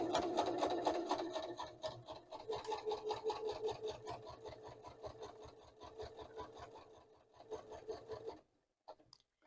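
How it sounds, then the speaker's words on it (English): A sewing machine stitching a nylon webbing dog collar along its edge with a fine seam, its rapid steady needle rhythm running close and continuous for about eight seconds before stopping, with a few faint clicks after. "I'm going to sew all the way down one edge and then come back and sew all the way down the other edge at a 1/8 inch seam allowance"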